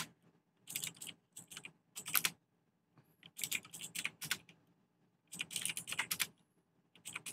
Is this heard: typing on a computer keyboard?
yes